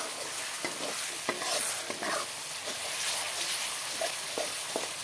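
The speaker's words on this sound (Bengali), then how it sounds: "দেখো, এখানে সব কিছু একসাথে ভেজে মিলিয়ে নেওয়া হয়েছে।" Vegetables and spices tossed with sauce for veg chow mein, frying in a hot pan: a loud, continuous hissing sizzle with occasional sharp stirring scrapes and pops, close up and alone.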